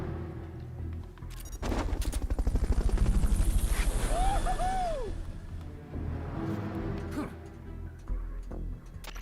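A helicopter's steady rotor chop swells to a loud, thudding pulse during a Fulton recovery in the video game Metal Gear Solid: Peace Walker, with short whooshing and rising tones mixed in before it eases back down.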